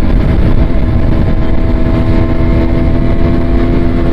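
A KTM RC 125 motorcycle engine revs hard and steady while accelerating up through the gears, a loud, continuous close-up drone with no speech over it.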